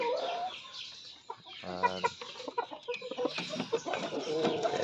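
Shamo chickens clucking close by in a short burst of overlapping calls, with one louder, more sustained call near the middle and busy farmyard bird sounds continuing throughout.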